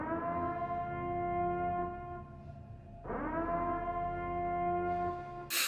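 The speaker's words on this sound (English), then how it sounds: "we got a siren in the background here" A siren in the distance wails in long rising and falling tones behind a quiet podcast recording, steady and moderately faint, with no talk over it.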